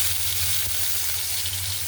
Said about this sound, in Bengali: এখন দিয়ে দিতেছি মাছগুলা।